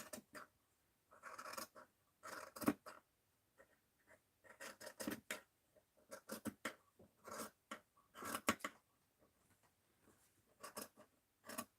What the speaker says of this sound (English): Let's trim it about an inch.